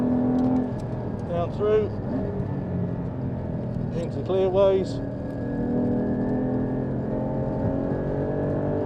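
A Porsche Cayman 981 GT4 engine drones steadily and loudly from inside the car on a race track, pitch climbing and dropping with gear changes, while a voice talks over it briefly.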